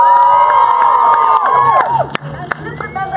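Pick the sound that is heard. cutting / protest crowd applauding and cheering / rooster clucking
protest crowd applauding and cheering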